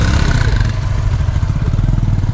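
A motorcycle engine runs loud and close in cold weather, a steady throbbing rumble that rises slightly as the rider gives it throttle.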